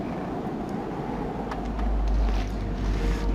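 Steady wind rushing across an open snowy landscape in the survival game The Long Dark, Interloper difficulty, a continuous low roar that swells louder partway through, with no voices.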